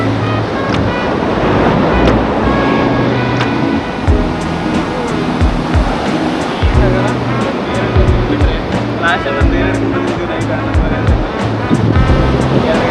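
Arabian Sea waves break and wash continuously at Candolim Beach in Goa, a loud, close roar of surf with gusting wind buffeting the microphone and muffled background voices mixed in.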